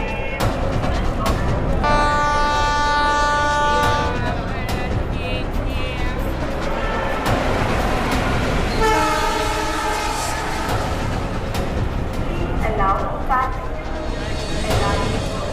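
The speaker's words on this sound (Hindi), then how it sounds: "मुंबई से दिल्ली जाने वाली पश्चिम एक्सप्रेस प्लेटफॉर्म नंबर 3 पर आएगी" A passenger express train rolls into a station platform with a loud, sustained rumble and clatter while its horn sounds in long tones, and people talk nearby.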